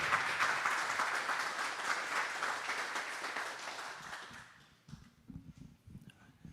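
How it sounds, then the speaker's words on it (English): An audience at the BornHack 2021 hacker camp network talk claps loudly for several seconds, then the applause fades out and a few scattered thumps and rustles follow. "Should we give them an applause?"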